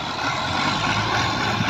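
A Fiat 480 tractor labours while stuck in soft ground, its engine giving a loud, dense, steady roar that strains without easing, with no voices over it.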